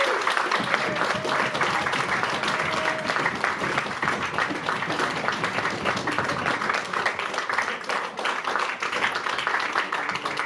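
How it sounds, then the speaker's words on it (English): A live concert audience at a show applauds steadily and loudly for about ten seconds, dense continuous clapping with scattered shouts and possible stomping mixed in, a brief tone briefly audible underneath. "if you all just will shout and stomp and clap your hands"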